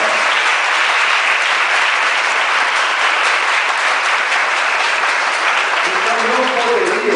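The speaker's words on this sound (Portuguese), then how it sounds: "Então isso merece nossos aplausos" Audience applause at an anniversary celebration, a loud, dense and unbroken wash of clapping from a large crowd, steady for several seconds.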